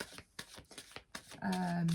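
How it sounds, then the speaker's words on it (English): A deck of oracle cards is shuffled by hand in quick, close riffling bursts, followed by a sustained tone near the end. "So I'm just going to give them a little shuffle"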